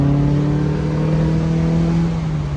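A Mazda Miata accelerates hard and drives past, a loud steady engine drone with a rising pitch that fades slightly as it pulls away.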